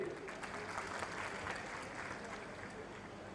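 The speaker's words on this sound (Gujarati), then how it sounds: "કેમેરામેન માટે એકવાર જોરદાર તાળીઓ" A crowd at a Guru Purnima religious festival applauds in a steady, soft wash of clapping that sounds distant and faint throughout.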